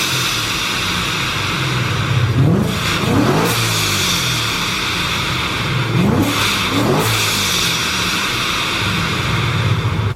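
Boosted Ford Mustang making 650 wheel horsepower, idling rough and loud, then blipped in two sharp revs that rise and fall quickly, each followed by a return to idle.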